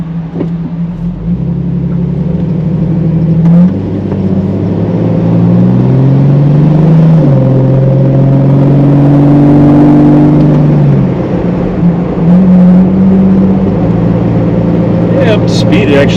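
Heard from inside the cab, a 2006 Jeep Wrangler fitted with a FlowMaster cat-back exhaust accelerates, its low engine drone rising and shifting pitch through the gears as a steady, loud rumble.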